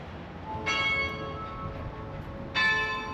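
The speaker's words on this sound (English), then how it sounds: "This church's bell tower houses 9 movable bells, which were cast at the Whitechapel Bell Foundry in England and shipped to Maryborough." Church tower bells cast at the Whitechapel Bell Foundry in England ring out in Maryborough, Queensland, with two clear, resonant strikes about two seconds apart and long ringing decays, heard from outside with no voices.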